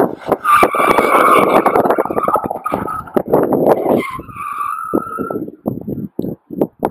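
A Peugeot 206 S16 understeering on a track during a front-wheel-drive oversteer exercise, tires squealing loudly over a revving engine for several seconds, then the engine note breaks into choppy bursts as the car gets back on the throttle.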